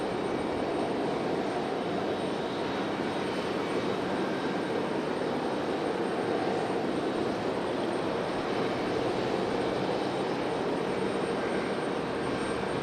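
An airplane landing at Raleigh Durham airport gives a continuous broadband roar that stays steady throughout, heard from a distance outdoors with no talk.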